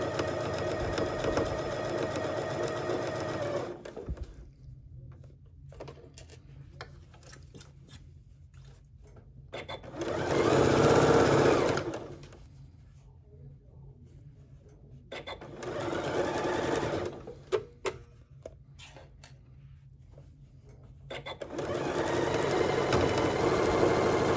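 A sewing machine stitches a twisted infinity scarf in steady whirring runs, stopping and starting with quiet gaps where small clicks can be heard as pins are pulled, all close and alone.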